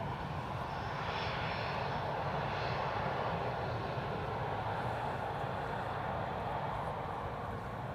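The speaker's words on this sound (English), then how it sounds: "One of the KLM cargo 747s." Jet engines of a KLM cargo Boeing 747 at Amsterdam Schiphol Airport, a steady loud broadband roar that holds evenly for the whole stretch, with no voices over it.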